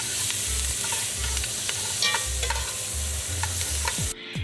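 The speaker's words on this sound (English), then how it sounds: "I'm going to cook the onion and the garlic for a couple minutes" Onion and garlic sizzle in a hot pan while a utensil scrapes and stirs in short bursts, the frying hiss steady throughout.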